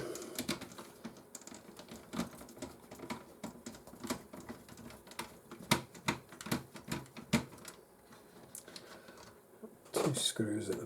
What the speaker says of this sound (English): I'm going to take the power board out the machine.